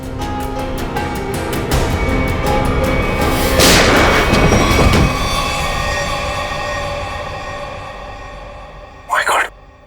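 Gunshot in a CID crime drama scene, a loud booming blast with a long echoing decay, followed later by a brief sharp sound.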